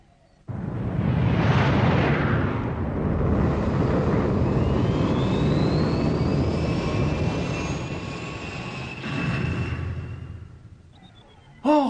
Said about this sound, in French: J'engage les manœuvres d'atterrissage.